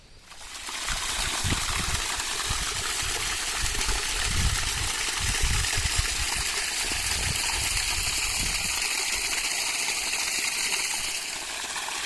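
Water gushes steadily through a breach cut in an earthen bund of a flooded paddy field in Konkan, a constant close rushing flow with low gurgling underneath, no voices.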